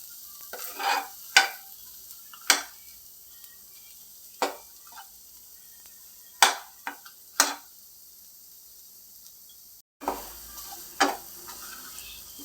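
Masala for palak sambar fries quietly in a pan while a spoon scrapes and stirs it in a handful of separate sharp strokes, close and intermittent over near silence.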